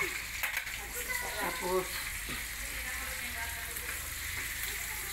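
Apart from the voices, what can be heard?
garlic being sautéed in a pan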